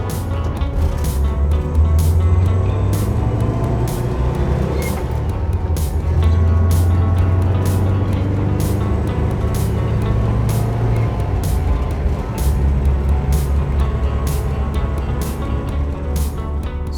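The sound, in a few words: 1966 Volkswagen Split Window dual carbureted engine pulling away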